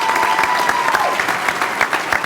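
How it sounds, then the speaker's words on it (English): A crowd applauds commissioners of the Arkansas Martin Luther King Jr. Commission at an MLK Day of Service event, loud continuous clapping with a faint whistle-like tone early on. "Please give them a round of applause."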